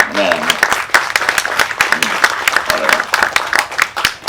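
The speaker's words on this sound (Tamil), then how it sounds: "அவர் தம்பி சிரிக்கிறத பாருங்க, இப்படியே அன்பர் அவருக்கு கைத்தட்டு" Audience clapping for a film director at a Tamil movie audio launch event, a dense steady patter of hands throughout, with voices and cheering mixed in.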